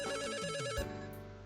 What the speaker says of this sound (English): the shop's phone started ringing